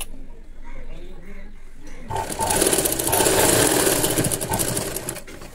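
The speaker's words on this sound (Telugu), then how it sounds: "ఇదే విధంగా ఎల్ షేప్ వచ్చేలా స్టిచ్ వేసేసుకోవాలి" Sewing machine stitching thread piping along a square neckline, starting after a quieter stretch with a dense, steady mechanical whir that runs a few seconds and stops near the end.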